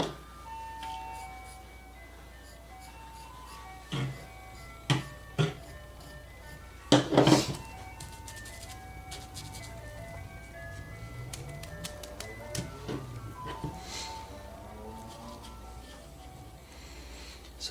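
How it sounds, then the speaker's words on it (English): An ice cream truck passes outside, its faint tinkling jingle melody carrying from a distance, joined by a few sharp clinks and taps nearby in an otherwise quiet room. "The ice cream man's driving by."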